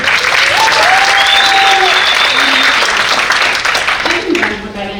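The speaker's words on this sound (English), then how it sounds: "We just want a round of applause for Mariana" Loud, dense applause from a conference audience fills the whole stretch, with a few voices and whistle-like tones on top, then thins out near the end.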